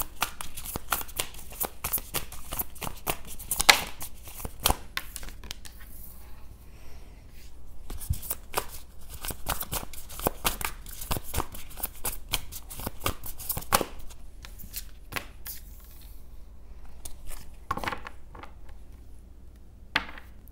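A tarot deck is shuffled by hand, close and fairly quiet, with rapid papery riffles and flicks coming in uneven bursts with short pauses between them.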